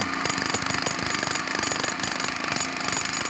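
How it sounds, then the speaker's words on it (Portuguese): Loud, continuous construction noise dominated by a buzzing power tool, dense and unbroken throughout with rhythmic grinding pulses. "pessoal trabalhando. Esse é um exemplo de ruído contínuo."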